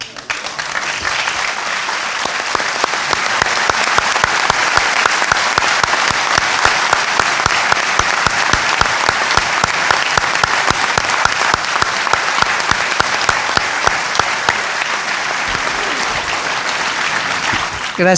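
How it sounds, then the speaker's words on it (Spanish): Sustained applause from a large audience at a book launch, greeting a guest who has travelled from Rosario; dense, steady clapping builds in the first seconds and holds loud and even for about eighteen seconds. "si todos le damos un fuertísimo aplauso"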